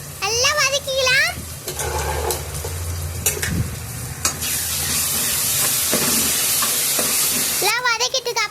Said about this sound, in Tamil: உப்பு போட்டதுக்கு அப்புறம் நல்லா வதக்கிட்டு இஞ்சி பூண்டு பேஸ்ட் போட்டுக்கலாம்